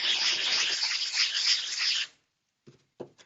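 A wooden prop is sanded by hand in close, continuous abrasive strokes for about two seconds, broad and steady, then stops, leaving silence broken by a few faint taps or brushes.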